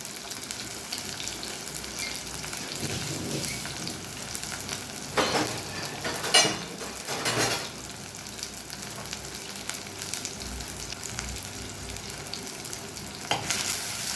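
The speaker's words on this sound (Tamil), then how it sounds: "வெங்காயமும் பூண்டும் நல்லாவே வதங்கி வரட்டும்" Chopped onions and whole unpeeled garlic cloves fry in oil in a pan with a steady, dense sizzle. Several louder stirring scrapes break through midway, all close with no voices.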